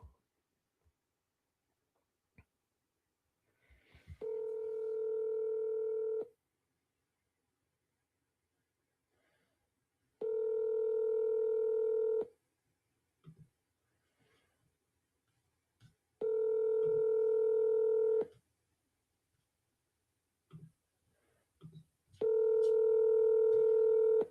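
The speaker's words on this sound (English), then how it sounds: "So let's fire off a call to this one, and we'll see if we can get a deal done." Telephone keypad tones dialing a cold call, four long steady tone bursts spaced a few seconds apart with short clicks between, near and clear in a quiet room.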